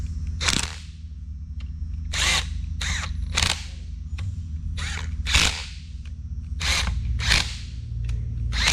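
Repeated short bursts from a power tool driving fasteners home on an NP203 transfer case, about a dozen quick whirs of varying length over a constant low hum, close and fairly loud.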